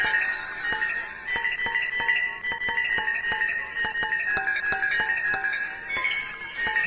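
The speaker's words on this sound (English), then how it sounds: "So that's an instrument that I've created with the jingle bell sound." A sampled jingle bell software instrument in Ableton rings out in a bright, evenly spaced pattern of shimmering metallic jingles, close and clear, with sustained chiming tones between the strikes.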